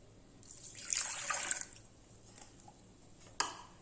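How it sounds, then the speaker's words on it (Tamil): Water poured from a cup into a mixer jar while making Karnataka-style instant dosa batter, a short splashing gush followed by a few faint drips and a small clink near the end. "இப்போ மிக்சி ஜாரில் ஒரு 3/4 கப்பு தண்ணி விட்டுக்கிறேன்."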